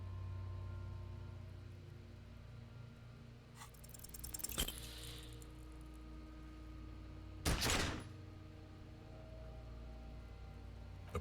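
A pistol shot in the detective game Disco Elysium, heard as two sharp, loud bangs a few seconds apart over a steady low hum, with rattling noise after the first.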